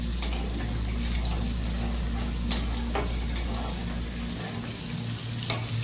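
Paneer masala made without onion or garlic fries in a pan as it is cooked down, a steady close sizzle over a low hum, broken by a few sharp ticks and clinks of the stirring spoon.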